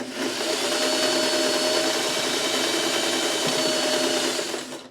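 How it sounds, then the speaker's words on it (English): A sewing machine runs continuously while stitching fabric pieces together, a loud, steady motorized whir with a fast needle rhythm that holds for the whole stretch before slowing at the very end. "I'm going to just go ahead and sew this onto this"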